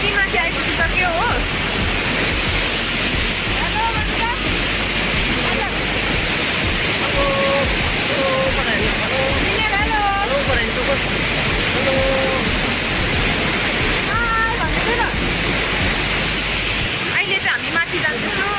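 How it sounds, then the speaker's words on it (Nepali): Steady roar of the lower falls at the Kanchenjunga waterfall, a dense, continuous rush of water filling the whole stretch, with voices talking faintly over it. "यो चाहिँ तलको वाटरफल्स हो"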